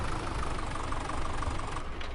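A Massey Ferguson tractor engine idles steadily in Farming Simulator 2017, a dense, continuous low rumble with a faint knocking texture, close and even in loudness throughout.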